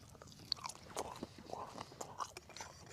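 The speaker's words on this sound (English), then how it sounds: "It will sound awful because I've got a microphone right there and I'm chewing." Mixed grill food is chewed right up against a microphone at an outdoor wild camp on a hill, giving soft, steady wet mastication with small crunches, close and fairly quiet with no talk.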